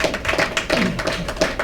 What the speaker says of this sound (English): Go ahead and clap if you have.